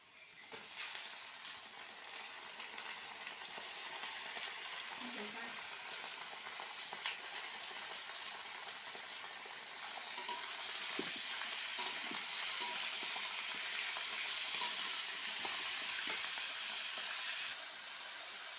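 Goat meat frying in a pan with fried onions, a steady sizzle and hiss with occasional stirring scrapes and pops, continuous and close.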